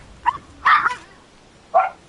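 Dogs in the video game Elden Ring bark in three short sharp bursts, the middle one longest, each separated by brief quiet gaps.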